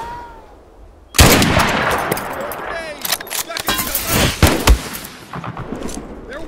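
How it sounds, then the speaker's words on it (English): Gunfire in the war game Mud and Blood, a burst of sharp shots and crackling reports starting abruptly and continuing irregularly, with voices calling out over the shooting. "Opening fire!"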